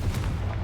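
A Confringo spell from the Hogwarts Legacy video game goes off as a short, deep, booming blast, close and loud, with no talk over it.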